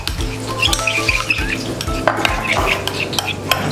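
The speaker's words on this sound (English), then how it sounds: "We're using the tomato sauce, TS tomato sauce, and this mayo, canola mayo, to just make the sauce." Spoon scraping and clinking in a bowl while tomato sauce and canola mayo are stirred together, with soft rhythmic knocks against the dish throughout.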